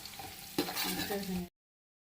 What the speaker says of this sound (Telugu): మనం పలావ్ దినుసులన్నీ ఇలా వేసేసుకుందాం